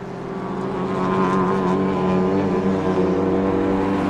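Touring race car pulling out of the pit lane after a stop, its engine swelling from a low hum into a loud, steady, droning pull, close by and with no talk.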